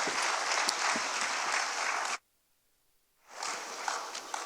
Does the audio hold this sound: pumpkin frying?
no